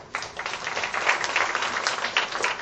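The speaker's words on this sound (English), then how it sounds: "A big round of applause for each one of them." An audience at an annual session applauds, dense steady clapping from many hands that starts abruptly and holds at an even level through the whole stretch.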